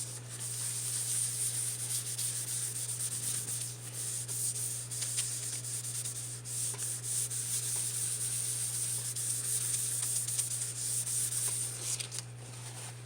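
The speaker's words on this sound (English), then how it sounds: "just wiping off my excess because I don't want it puddled on there" Excess wax is wiped off paper by hand, giving a soft, continuous rubbing and scuffing sound that stays close and quiet over a steady low hum.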